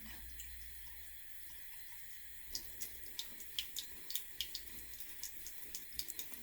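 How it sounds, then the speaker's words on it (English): A water tap runs into a sink while makeup brushes are rinsed, giving a faint, steady flow that turns into irregular splashes and drips in the second half, close and quiet with no talking. "I'm going to give that a rinse, and you can see all of that run off"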